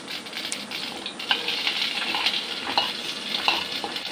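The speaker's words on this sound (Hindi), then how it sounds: "फिर प्याज को फ्राई करें लाइट ब्राउन होने तक" Onions frying in hot oil with mustard seeds give a steady, close sizzle and crackle, dotted with small popping clicks and the occasional scrape of stirring. No one speaks.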